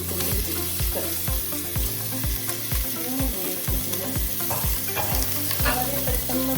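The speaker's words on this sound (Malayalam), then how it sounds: "ഇനി നമ്മൾ അതിലേക്ക് ഉള്ളി, പച്ചമുളക്, ഇഞ്ചി വെളുത്തുള്ളി പേസ്റ്റ്" Onion, green chili and ginger-garlic paste frying for egg pulao, a continuous sizzle with stirring, under a rhythmic thumping music beat, no talk.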